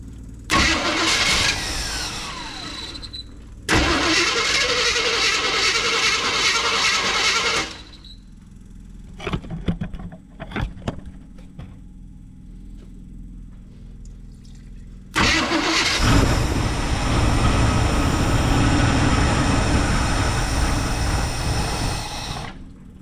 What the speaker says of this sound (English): It wants it, but the carburetor is just not doing the thing.